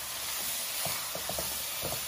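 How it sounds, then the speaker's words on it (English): Beef sautéing in a pan for ragu gives a steady close sizzle and hiss, with a few soft stirring scrapes over the constant frying noise. "Keep saute them."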